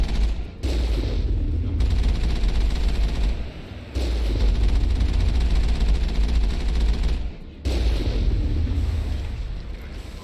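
Gunfire during a fight with pirates in the video game Mass Effect, a continuous loud stream of shots in long bursts broken by two brief pauses, with no talking.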